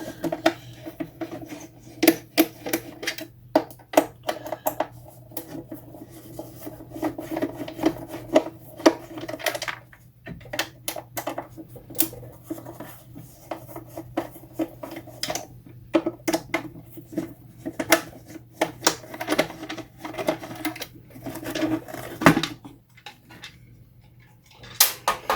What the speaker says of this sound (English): Actually, let's see if this will unbolt.